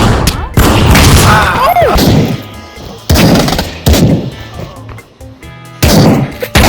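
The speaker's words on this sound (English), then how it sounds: "I'm gonna fucking shoot you if you don't put that deagle away." Loud, close Desert Eagle pistol shots in the VR shooter Pavlov VR, several heavy blasts each followed by a ringing tail and spaced about a second apart, mixed with game noise and some talk.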